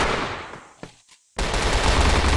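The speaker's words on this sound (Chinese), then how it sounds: "我先开枪，你再。" Loud bursts of automatic gunfire fill a shooting video game, a dense rattling stream that breaks off into a short near-silent gap and then resumes even harder.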